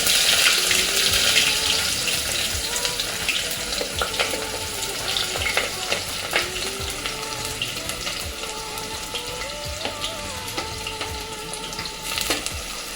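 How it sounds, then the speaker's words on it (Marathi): Onions go into hot oil in a pan for a chicken dum biryani and fry with a steady, fairly loud hiss and crackle. A few scrapes and faint clinks sound through it. "तेल गरम झालेलं आहे. आता आपण कांदा घालूया."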